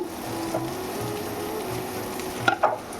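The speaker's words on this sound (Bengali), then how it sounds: "এখানে আমি ভাজছি আলু ডিম আলু ভাজছি" Potatoes fry in a pan, a continuous close sizzle under a faint steady hum, with a couple of quick metallic clatters of a utensil toward the end.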